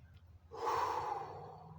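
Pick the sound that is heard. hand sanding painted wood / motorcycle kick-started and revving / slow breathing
slow breathing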